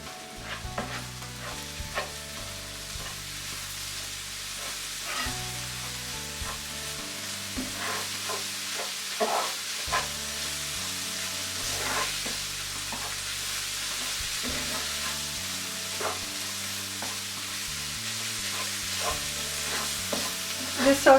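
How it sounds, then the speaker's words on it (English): Garam masala powder, cumin seeds and salt sauté in a hot pan with a steady sizzle, while a spoon scrapes and stirs repeatedly and an instrumental music bed plays underneath throughout. "the garam masala powder, cumin seeds, salt, and just saute everything well"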